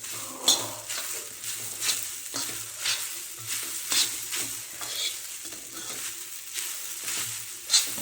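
Fasting khichdi cooks over a low gas flame, a soft sizzle running under repeated scraping and stirring of a spoon against the pot, with occasional sharper clinks of metal.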